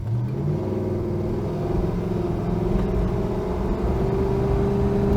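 A 1967 Dodge Coronet R/T V8 accelerates at about a third throttle, with a deep, steady rumble and rising engine pitch heard from inside the car, loud and continuous with no talking.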